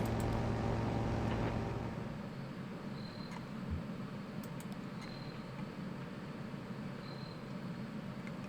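A motorcycle passes by in the video game Kentucky Route Zero, its engine loud for the first couple of seconds and then fading into a steady low ambient hum.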